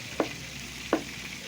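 Chop suey broth boils in a covered pot, giving a soft steady bubbling hiss broken by two brief faint knocks, with no talking.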